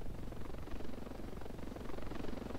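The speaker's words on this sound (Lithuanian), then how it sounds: "So, turim sraigtasparnį." Helicopter in the video game Battlefield, a steady loud rotor and engine drone with dense low chopping that holds throughout without a break.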